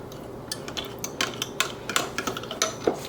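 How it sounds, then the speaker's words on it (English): A spoon stirs cornmeal and milk batter with egg and oil in a large cup, giving a quick run of light, irregular clinks and taps against the sides, close and fairly soft, with no talking. "Give it a stir."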